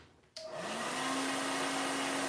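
A hair dryer switches on abruptly and runs steadily at close range, drying paint on a canvas during a live drawing and painting session; a constant airy whoosh with a steady whine holds without talk.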